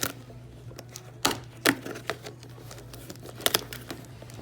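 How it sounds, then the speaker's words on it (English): Packing tape is peeled in short bursts from a cardboard mystery box of nail polish, with a few sharp tearing rips and scattered crinkling handling noises at close range over quiet room tone. "So what we're gonna do now is just get this tape off of here."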